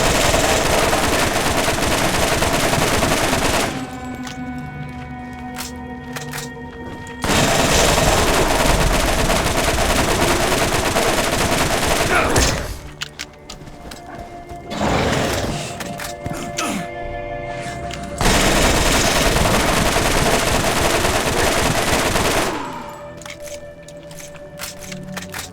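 Machine gun fire in Borderlands, a weapon with a type 4 barrel, comes in several long, loud, dense bursts separated by short pauses.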